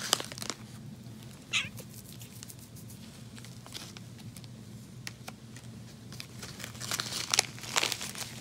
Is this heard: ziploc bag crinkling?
yes